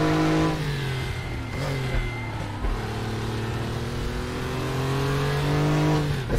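Air-cooled flat-six of a Porsche 911 (964) race car at Bilster Berg, heard up close and loud as it holds steady revs, then drops briefly and climbs again in a continuous droning run.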